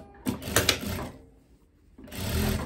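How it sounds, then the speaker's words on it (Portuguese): A sewing machine stitches a lined boiled-wool parka in two close bursts of rapid mechanical whirring, separated by a brief quiet pause. "eu vou vir costurando, ó."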